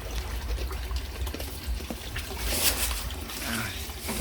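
Water pours in a steady waterfall-style stream into a newly built catfish pond, a constant close splashing rush with occasional faint voices in the background.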